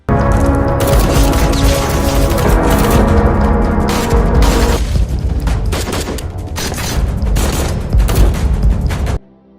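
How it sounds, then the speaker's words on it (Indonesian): Gunfire in a movie battle scene: dense bursts of shots and booming blasts crowd together loudly for several seconds, then cut off abruptly. "Baku tembak pun kembali terjadi."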